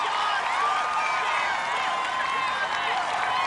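A steady, loud crowd roar of cheering fills an American Ninja Warrior course, holding evenly throughout without breaks.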